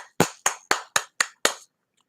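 Six sharp, evenly spaced hand claps ring out close and clear, one every quarter second or so, then stop into silence.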